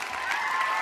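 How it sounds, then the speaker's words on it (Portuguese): An audience applauding, a brief steady wash of clapping at moderate volume with no pauses. "palmas para Literary Books"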